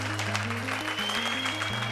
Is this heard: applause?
yes